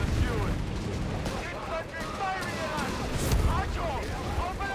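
A Flammpanzer III flamethrower tank fires in a Company of Heroes 3 battle, a rumbling, rushing roar of flame and combat noise under continuous commentary.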